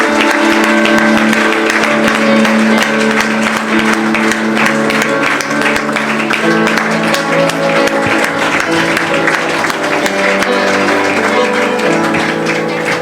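An audience at a Foundation Day felicitation ceremony claps in a dense, steady, loud wave of applause lasting several seconds, with a hall's murmur and some voices blended underneath.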